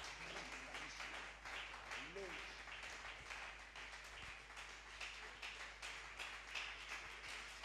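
A church congregation applauds together during a French-language sermon, a dense wash of steady clapping heard faintly at a distance, with a preacher's voice running over it.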